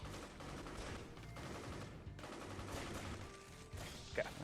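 Continuous gunfire in the shooter game Matt Hazard: Blood Bath and Beyond, a dense rattling fusillade that carries through the whole stretch at moderate level, with no talking.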